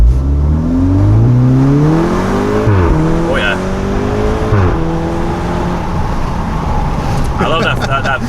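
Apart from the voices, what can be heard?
car exhaust with DSG gearshift burble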